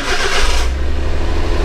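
A minivan engine with about 146,959 on the odometer cranks and catches with a loud burst, then settles into a steady, low, rumbling idle close by.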